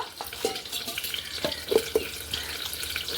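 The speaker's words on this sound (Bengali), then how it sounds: "পরিমাণ মতো জল দিয়ে মিক্স করে নেব" Water is poured over ginger, cumin and chopped tomato and stirred into a spice mix for a dal and soybean dish, giving light splashes and a few sharp clinks of utensil on bowl.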